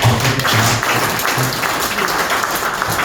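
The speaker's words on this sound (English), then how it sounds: "Now, please keep on clapping for him in appreciation." Sustained applause from an audience honoring a Vice-Chancellor at a university address, steady and dense clapping filling the whole stretch at close range with some voices mixed in.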